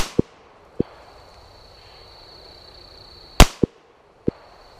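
A Beretta U22 NEOS pistol fires about five sharp, separate shots at an outdoor range, slowly paced and close, each a hard crack with a short ringing tail.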